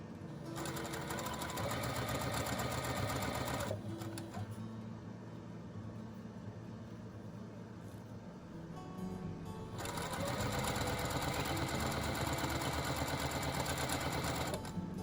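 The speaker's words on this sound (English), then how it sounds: "Now I know it looks like I'm sewing off here, but I am, because I wanted to line my seams up." A sewing machine stitches quilt seams for a butterfly log cabin quilt, a fast steady mechanical whir that runs, slows briefly in the middle, then resumes at full pace, close and without talk.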